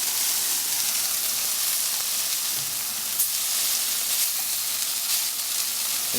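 Turkey burger patties sizzling in a hot pan just after being flipped, a steady bright frying hiss with occasional small pops, close and continuous with no talking.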